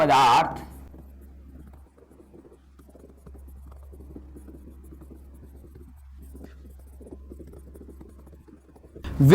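During a physics lesson on semiconductors, notes are written with soft, steady scratching over a low hum. A voice speaks briefly at the start and again at the end.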